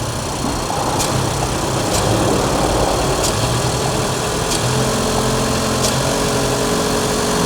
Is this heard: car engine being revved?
yes